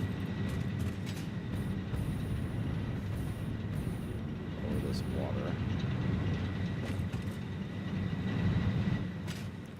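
Loud trains roar through a video game scene near water, a steady heavy rumble running the whole time with faint squeals above, while a player talks over it.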